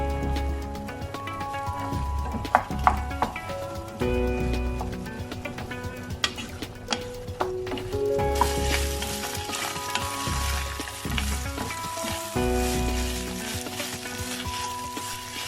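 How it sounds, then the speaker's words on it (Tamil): Minced meat sautéing in oil in a pan for pasta sauce, a steady close sizzle and crackle running throughout, with faint stirring scrapes and music playing underneath. "இன்னும் ஒரு 2-3 நிமிஷம் நல்லா சாட்டே பண்ணி இந்த மாதிரி நம்ம மின்ஸ்ட் மீட்டை கொண்டு வரணும்"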